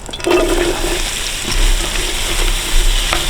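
Onions hiss and crackle in a pan of melted butter, a steady, close sizzle with a few brief spatters and louder bursts as the pan is stirred, with no talking.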